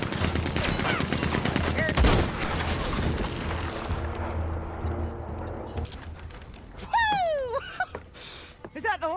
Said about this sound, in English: That's on a Gatling gun. They keep firing like that.